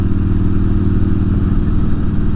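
A motorcycle fitted with a Vance & Hines 2-in-1 Pro Pipe exhaust idles loudly and steadily nearby, a deep throaty rumble with rapid regular pulsing and no talk over it.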